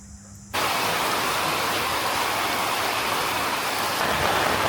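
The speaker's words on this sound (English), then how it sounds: "The rain was so heavy that water started flowing into the house." Heavy rain pours down in a dense, steady roar after a quieter opening, loud and close like a downpour on surfaces around a house in Da Nang.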